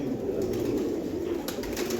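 Teddy pigeons coo softly in a cage, a steady low murmur of overlapping calls running throughout at moderate distance, with no talking.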